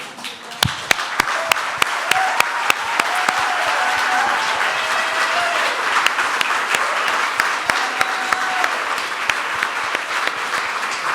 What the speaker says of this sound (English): Yeah, a huge clap for them.